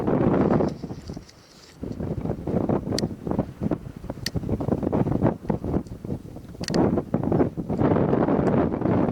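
Cold wind buffets the microphone outdoors, a loud, low rumbling roar that surges and dips with gusts, briefly easing before returning, without talk.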